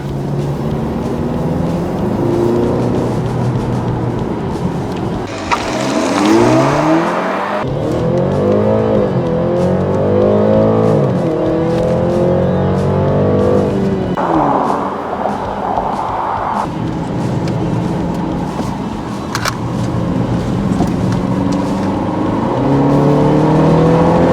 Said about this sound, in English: The petrol engine is running most of the time.